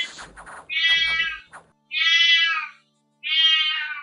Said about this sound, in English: Yeah, I should deal with my cat, I know